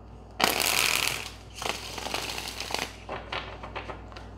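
A deck of cards being shuffled, with a burst of riffling at the start followed by several shorter, softer shuffles and taps, close up.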